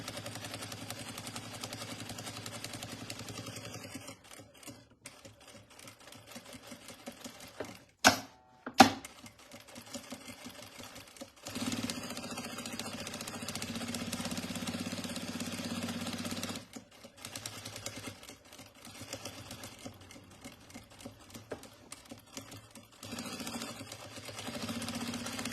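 Sewing machine stitching a crossbody bag, a fast steady mechanical whirr running in long stretches, broken by a few sharp clicks and brief pauses, close and moderately quiet.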